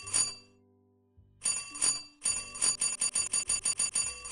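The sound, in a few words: room service bell pressed repeatedly, from a video game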